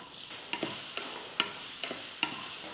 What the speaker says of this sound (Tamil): பிரண்டை பாருங்கள் இந்த மாதிரி நல்ல கலர் மாதிரி நல்லா வதங்கிட்டு இருக்கு பாருங்கள்